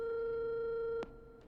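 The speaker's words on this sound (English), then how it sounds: "Forrest, we have a new call coming" An incoming call signal on a radio station phone line: a steady electronic telephone tone sounds clearly, then cuts off with a sharp click, followed by a fainter blip.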